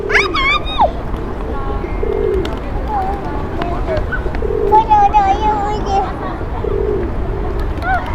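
Pigeons coo close by outdoors in repeated soft, throaty calls spread across several seconds, with a few sharp chirps and people talking quietly nearby.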